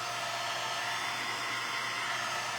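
A Harbor Freight heat gun with two temperature settings blows hot air in a loud, steady, unbroken roar that fills the whole stretch with no pauses.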